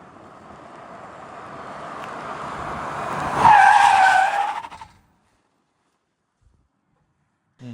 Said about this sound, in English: Skids a little bit, comes to a stop there.